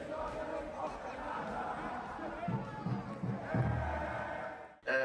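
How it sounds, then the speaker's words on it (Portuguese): Botafogo fans and players erupt in celebration, a loud crowd of shouting and cheering voices with whoops and bellows swelling toward the end. "A torcida do Botafogo e os jogadores comemoraram muito a classificação"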